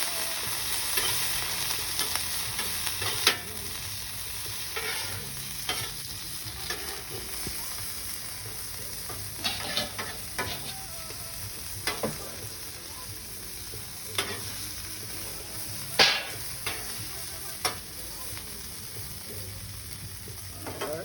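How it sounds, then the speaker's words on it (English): Butter melts and sizzles on a flat griddle, giving a steady, fairly quiet frying hiss with occasional scraping strokes of a spatula scattered throughout. "So this is butter. I just liquefy it,"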